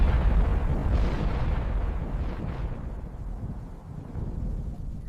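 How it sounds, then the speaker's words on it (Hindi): Deep thunder rolls through a stormy night in a spoken story, a long low rumble that swells and then slowly fades, heard alone without any voice. "दूर कहीं बिजली गरजी।"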